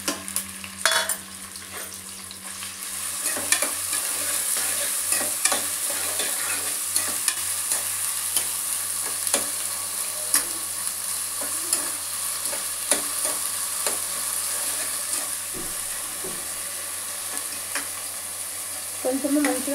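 Green chillies and onion fry in hot oil for a chicken curry, a continuous close sizzle broken by frequent scraping stirs of a spoon against the pan.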